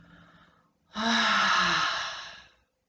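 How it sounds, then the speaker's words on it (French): A strong, forceful exhale through an open mouth during a relaxation exercise, one long breathy rush that swells quickly, holds, then fades to silence, close and alone after a faint breath. "on ouvre la bouche et on expire fortement"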